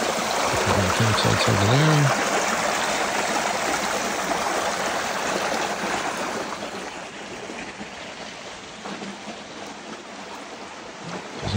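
Laurel Fork stream flows steadily near a campsite along a mountain trail, a continuous broad rush of water with a brief spoken remark at the start.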